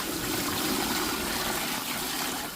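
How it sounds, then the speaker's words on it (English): Water running from a shallow sink tap into a bucket, a steady rushing gush that stays loud and continuous throughout. "I just use a bucket, and I fill up"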